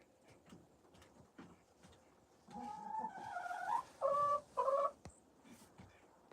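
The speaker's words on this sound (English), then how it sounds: "Roosters in a hen house." Chickens and roosters in a hen house, with soft rustling and scratching at first, then a close run of clucks and squawking calls in a few bursts.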